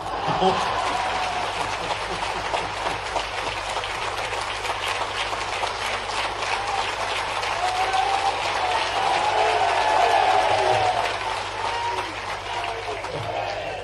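An audience applauds at a public government event in Bhopal, with sustained clapping and scattered chuckles forming a steady, dense wash that lasts throughout.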